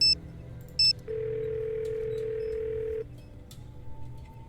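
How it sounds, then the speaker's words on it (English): Telephone in the Nancy Drew game Ghost of Thornton Hall: two short dialing beeps, then a steady dial tone held for about two seconds before it cuts off, leaving quiet room noise. "Let's give her a phone call."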